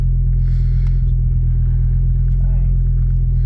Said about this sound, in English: So the van idles high